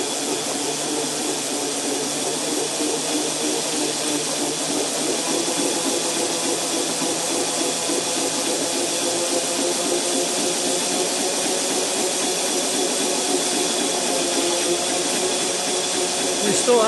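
Electric motor with a pulley spun up by hand, giving a steady whirring, hissing mechanical hum with a faint rhythmic chatter, close and continuous throughout.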